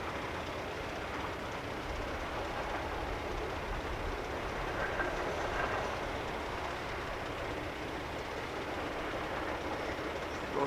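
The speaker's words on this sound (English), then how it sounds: "Goes a couple of axles for box cars." A long freight train of box cars rolls past as a steady, broad rumble and rail noise, fairly faint and unchanging throughout, with no talk.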